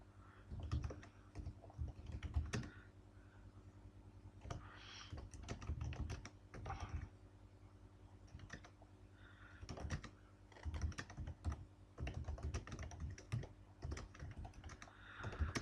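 Steady typing of an ad text on a computer keyboard, with rapid irregular clicks and short bursts of keystrokes continuing throughout, close and clear, with no talking.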